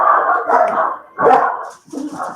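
A wee tiny dog barks from up the back outside while being walked, giving several sharp, yappy barks in quick bursts with short gaps, fairly close and clear.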